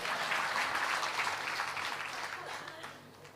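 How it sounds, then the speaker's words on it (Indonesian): A short burst of clapping from a crowd, fairly distant and fading gradually over a few seconds. "Tepuk tangan dulu."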